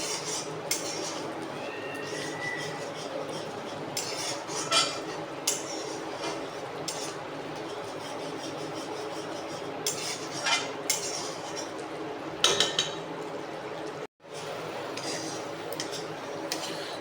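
Fish curry spice paste stirred in a pan with a metal spoon, repeated clinks and scrapes against the pan over a low background, with a brief drop to near silence toward the end.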